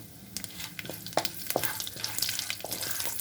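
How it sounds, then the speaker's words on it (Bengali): Cumin seeds and four or five bay leaves sizzling in hot oil over a low flame, stirred with a few quick scraping strokes, a close, bright crackle with no one speaking. "এটা হচ্ছে সাজিরা 1 টেবিল স্পুন আর 4-5টা তেজপাতা। একটু নেড়ে দেবো।"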